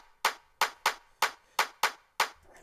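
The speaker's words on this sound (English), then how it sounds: "I added some claps" Seven crisp, evenly spaced clap samples from a dance music remix of a song, punchy and bright, each with a short decaying tail, played alone in a steady rhythm.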